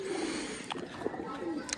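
Pigeons coo softly near a rooftop loft where grain has been scattered, low repeated coos with a few brief bird calls over a steady background hum.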